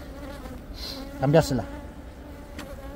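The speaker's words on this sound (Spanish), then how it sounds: "Esto es un enjambre que cogí" A honeybee swarm hums in a continuous close buzz during a summer hive inspection, with a short spoken word from the beekeeper rising over it.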